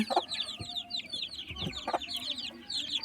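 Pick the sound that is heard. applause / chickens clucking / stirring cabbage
chickens clucking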